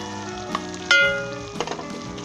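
Boneless beef frying over high heat in a pot for a Punjabi-style biryani, with a steady sizzle broken by a few louder clattering stirs close by.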